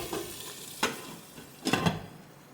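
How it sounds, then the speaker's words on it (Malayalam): Hot tempering is poured into a coconut-based ash gourd dal curry. Two sharp sizzling bursts crackle up close, separated by a quieter hiss. "ഈ താളിപ്പ് നമുക്ക് കറിയിലേക്ക് ഒഴിച്ചു കൊടുക്കാം. ഇതിലേക്ക് താളിപ്പ് ചേർത്ത് കൊടുക്കുന്നുണ്ട്."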